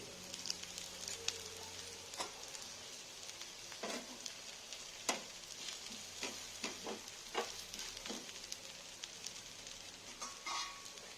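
Pesarattu, a mung bean crepe topped with ginger and onions, fries in oil on a pan with a steady close sizzle and occasional light scrapes and pops, no voices.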